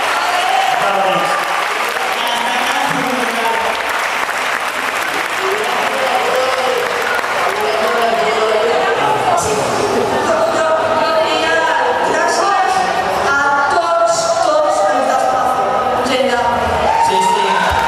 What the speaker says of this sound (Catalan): Aplaudits.